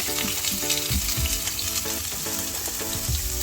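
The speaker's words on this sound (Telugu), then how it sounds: "ఆయిల్ బాయిల్ అయింది కదా మంచిగా. ఇప్పుడు ఇందులో మనం ఆనియన్" Onions hitting hot oil in a pan for fried rice, a loud, close, continuous sizzle with repeated stirring scrapes and light utensil knocks throughout, no voices.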